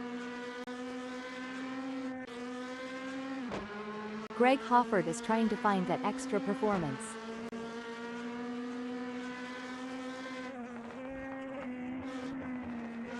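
Race cars in the DTM class of a sim racing game, engines droning steadily with pitch sweeps as cars pass and a brief rattling burst, running under a commentator's voice throughout.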